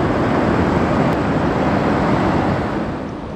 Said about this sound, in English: it looks like another little waterfall coming up.